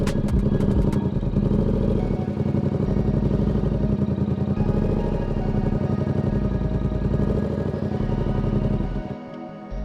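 A Yamaha motorcycle engine idles steadily and then pulls away in first gear, its loud, close, mid-pitched throb holding for several seconds before dropping off at the end.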